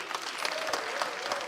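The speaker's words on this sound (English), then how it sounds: "Ladies and gentlemen, a round of applause for Sika." Audience at a live Ghana's Most Beautiful 2025 pageant applauding contestant Sika from the Ashanti region, a dense, steady wash of clapping filling the whole moment, with some crowd noise mixed in.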